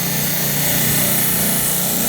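A diamond saw blade grinds through a hard opal slice, a loud, steady, close rasping whine that runs unbroken throughout.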